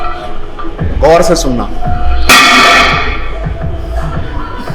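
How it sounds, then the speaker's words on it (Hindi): Iron gym weights give one bright metallic clang in a chest workout, ringing out under a man's loud, close speech. "जो प्योर लोखंड की आवाज़ आती है ना"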